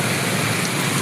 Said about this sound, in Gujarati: ફૂલ વરસાદ ચાલુ છે તારે.